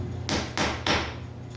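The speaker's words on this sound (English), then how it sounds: "That's when the hammer comes in." Three sharp metallic hammer taps on an exothermic weld joint in 4/0 copper, knocking off slag, evenly spaced and close by with a short decay after each strike.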